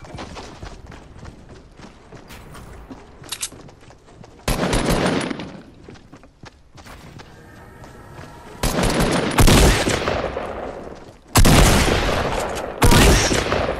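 Fortnite gunfire: scattered shots and bursts of broadband blasts, some loud and close, with quieter crackling in between and sustained heavy bursts toward the end.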